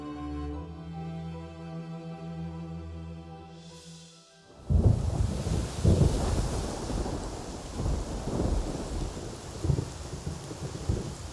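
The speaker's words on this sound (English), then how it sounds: "Guanghan was hit by a torrential downpour that brought the maximum rainfall for the year" A torrential downpour hits Guanghan with thunder: a low rumble breaks in after a quiet tonal stretch, then heavy rain roars loud and close with rolling thunder beneath, no voices.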